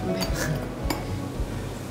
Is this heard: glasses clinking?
yes